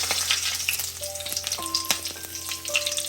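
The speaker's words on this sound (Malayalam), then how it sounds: "ഇനി കറിവേപ്പില ഇടുകയാണ്." Curry leaves hiss and crackle as they drop into hot oil for a pachadi, a steady close sizzle with sharp pops throughout and no voices.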